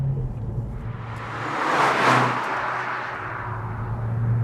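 A 2013 Mazdaspeed3's engine pulls above 3,000 RPM, a muffled cabin rumble that swells into a rushing surge and then eases, moderately quiet and heard alone.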